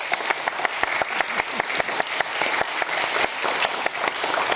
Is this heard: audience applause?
yes